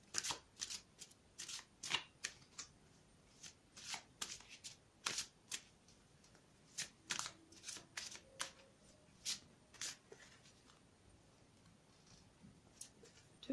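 Tarot cards being shuffled by hand make sharp, close papery riffles and snaps in quick irregular bursts, repeated many times with short pauses between, with no talking.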